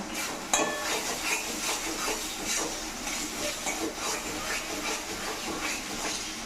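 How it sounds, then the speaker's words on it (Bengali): Spices and green chillies fry in a pan for a fish curry, a dense, continuous hiss and sizzle heard close, with soft stirring scrapes underneath. "মশলাটা ভালো করে কষিয়ে নেব"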